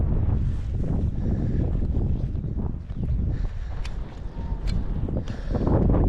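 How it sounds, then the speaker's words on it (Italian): Wind gusts buffet the microphone on a hike around Monte Paganuccio in the Furlo Gorge nature reserve, a loud, continuous rumbling roar that swells and eases throughout, with no voices. "tira un po' di vento in alcuni tratti che dà un po' fastidio"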